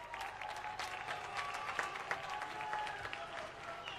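Studio audience applauds a singer on the Popstar television talent show. Dense, even clapping sits over a faint tonal music bed and continues steadily throughout, with a light crowd murmur mixed in.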